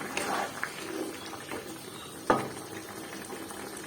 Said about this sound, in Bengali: এবার এটা দিয়ে গ্যাসটা বাড়িয়ে দিয়ে ভালো করে ফুটিয়ে নেব।